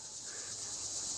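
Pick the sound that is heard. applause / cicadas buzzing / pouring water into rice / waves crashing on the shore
cicadas buzzing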